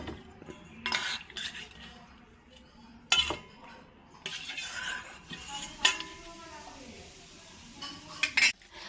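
Boiled raw mangoes are lifted into a bowl, producing a few scattered clinks and knocks of utensils against dishes at close range, separated by quiet gaps.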